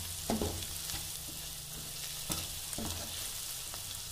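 Spices with salt and coriander powder sizzle in a pan with lauki and chana dal, a steady frying hiss broken by a few sharp stirring scrapes, close and moderately loud with no talking.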